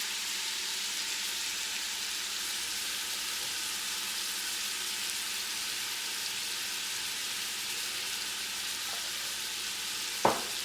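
Beef browns in a hot pan for chow mein, sizzling and crackling steadily throughout at moderate level, ending with a single sharp clink near the end.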